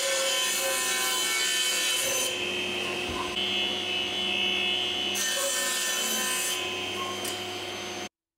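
A table saw cuts wood for box pieces with a steady motor whine and a rasping bite through the timber, rising and easing between passes, close and with no talking.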